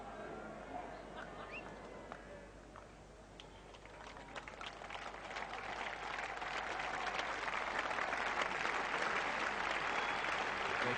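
A cricket crowd at a 1987 England versus Pakistan Test match applauds the Pakistan captain's half-century, distant clapping that swells from faint to a broad, steady ovation over about eleven seconds.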